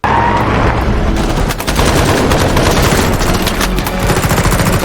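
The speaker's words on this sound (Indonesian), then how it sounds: "Aksi tembak-tembakan kini pindah ke jalanan" A film shootout moving into the streets: dense, loud bursts of automatic gunfire and rapid shots crackle continuously, with a brief lull before the barrage resumes.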